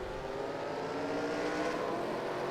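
Race car engines drone and rev together as the IROC field rolls off at Daytona in a racing video game, a dense, steady roar that holds loud and unbroken throughout.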